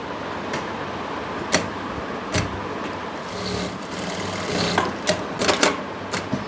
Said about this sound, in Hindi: इस तरह से हमने आसन की सिलाई लगा लेनी है